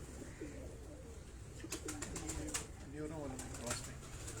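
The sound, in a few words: Urban Teddy pigeons cooing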